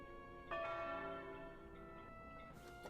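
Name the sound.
bell ringing in Wallace and Gromit video game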